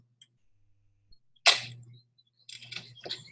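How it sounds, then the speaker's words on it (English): A sharp brittle crack of a crème brûlée's caramelized sugar crust breaking in quiet surroundings, followed a moment later by a few smaller crunching taps close to the microphone. "if we have our shell right, when you break it, it'll sound like this"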